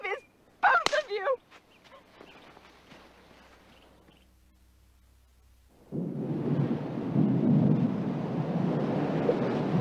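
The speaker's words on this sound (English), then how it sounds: "Storm is coming on." Thunder from an approaching storm rumbles in low and distant, then swells into a loud, continuous roar of storm noise that fills the second half, following a sharp crack and some voices early on.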